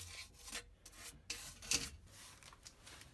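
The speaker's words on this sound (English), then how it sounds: "we take this brush" A stiff brush scrubs rust off the subframe of a BMW 540i, giving quiet, uneven rasping strokes in short bursts, close to the mic with no talking.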